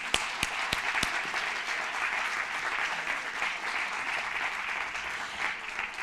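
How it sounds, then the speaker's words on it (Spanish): Audience at a nutrition forum applauding: steady, dense clapping from a large crowd that holds evenly throughout, with a few sharper individual claps near the start. "Les pido un aplauso."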